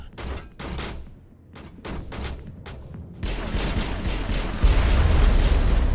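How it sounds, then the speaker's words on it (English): Rocket launcher blasts and gunfire in the Mass Effect video game: a few sharp separated shots, then a dense, continuous roar of explosions and firing that swells louder toward the end. "the guy's got like a rocket launcher or something"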